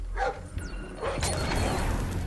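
A guard dog in the stealth video game Splinter Cell Blacklist gives a few sharp barks and yips amid game sound effects, fairly faint and mixed with clattering in-game noise.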